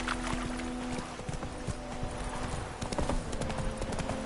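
Horse hooves galloping in The Witcher 3, a steady rapid clip-clop of a ridden horse with ambient game sound continuously beneath it, close and fairly loud.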